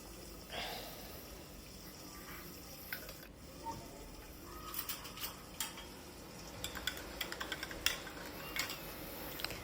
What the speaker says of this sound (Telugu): తనకి పాలు కలుపుతున్నా.